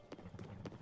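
Horse hooves clip-clop in Zelda: Tears of the Kingdom, three soft evenly spaced hoof strikes, quiet and brief.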